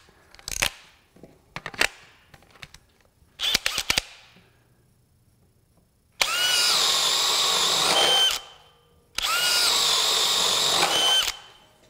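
DeWalt DCD999 cordless drill boring with a 1 inch spade bit, a few short clicks and trigger blips first, then two loud sustained high-pitched drilling runs about two seconds each, close up and without talk.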